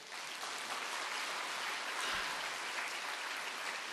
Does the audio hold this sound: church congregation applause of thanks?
yes